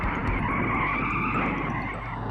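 A NASCAR stock car spins and skids on a racetrack, a loud, continuous tire screech under a steady engine roar lasting a couple of seconds, with no talking.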